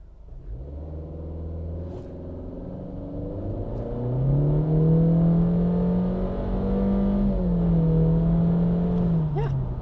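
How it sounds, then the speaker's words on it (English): Honda CR-V Touring with a CVT launching hard from a brake-torque start, engine droning up in one long steady rising pitch with no gear shifts, loud and close inside the cabin. "we're going to brake torque her and see how fast she goes"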